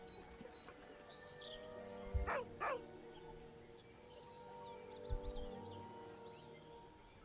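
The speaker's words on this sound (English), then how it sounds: "Heartbroken whine. The dog bows his head." Scratch, the dog in Baldur's Gate III, gives two quick whining cries close together, set against a steady hum of ambient game background with birdlike chirps; no one speaks.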